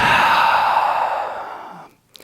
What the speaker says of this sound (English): Breath in and breath out.